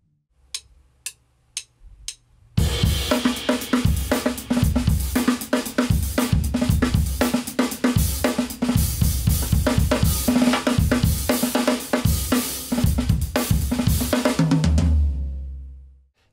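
A drum kit plays a groove on the head of a track. A few sparse ticking cymbal taps come first, then a full, busy groove of kick, snare and cymbals runs steadily before fading at the end.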